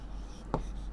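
A single short scratch of a pen or pencil writing on a paper page, close and quiet, over a low steady room hum.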